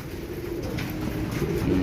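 Black Eagle pigeons coming back to their loft coo softly in a brief burst against a wash of outdoor noise.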